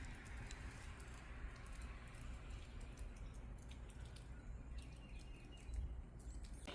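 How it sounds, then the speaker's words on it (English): Birds chirp and tweet steadily against a constant outdoor hiss, small high calls scattered throughout with no voices. "And just all along you can hear the birds."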